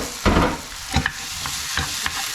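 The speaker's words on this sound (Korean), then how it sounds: "계속 꼼꼼하게 볶아줍니다." Sliced abalone stir-fried in sesame oil in a pan, with a steady low sizzle broken by a few scraping stirs of the utensil against the pan.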